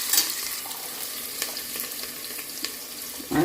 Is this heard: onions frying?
yes